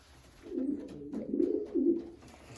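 Pigeons in a loft coo softly in low, rolling murmurs, a few overlapping calls close by in a quiet indoor space.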